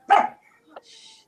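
A single sharp yap from a small dog, close by, followed by a faint brief squeak and a soft hiss.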